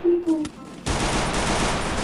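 A brief voice comes first, then a sudden loud burst of video game shotgun gunfire, followed by a sustained noisy roar of shots and echo.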